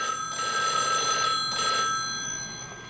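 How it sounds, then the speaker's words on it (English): An old telephone bell on a shared party line rings in a distinctive short-long-short cadence, with two bright metallic bursts standing out clearly over a steady hum. "And this phone is ringing too."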